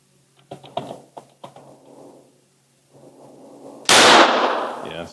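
A handgun fires on its own, with no finger on the trigger: a few light metallic clicks and handling clatter, a quiet pause, then one loud, sharp close-range report that rings and decays over the last second.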